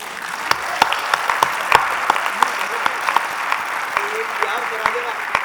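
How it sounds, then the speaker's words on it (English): Audience at an opening ceremony applauding volunteers, steady dense clapping with sharp individual claps standing out, loud and sustained throughout. "I'd like to give them a big round of applause."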